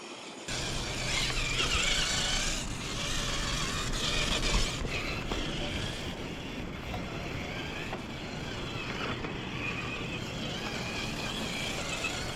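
A small RC rock crawler on a 2S battery pack, fitted with a snorkel, grinds over and climbs rocks, its electric motor and gears whining and whirring at varying pitch with clattering bumps against stone, close up and with no talking.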